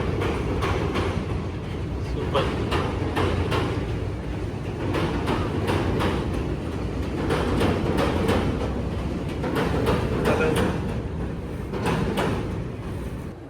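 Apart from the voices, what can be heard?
metro train passing overhead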